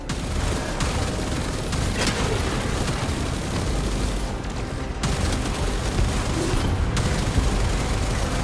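A video-game naval battle with torpedoes launched and exploding: a dense, loud barrage of booms and crackling blasts rolls on almost without pause, with a couple of brief dips in the roar.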